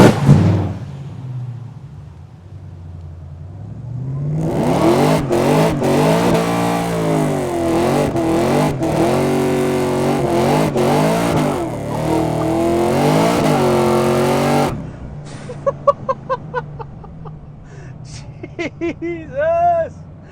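A car with traction control turned off revs hard and spins its wheels in a loud, sustained roar lasting about ten seconds. Sharp pops and people talking follow once the engine note drops away.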